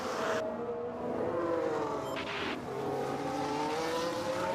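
F1 race cars in the F1 Manager 2022 game drone past with high engine whines that rise and fall as they pass, layered and steady throughout, with no talk.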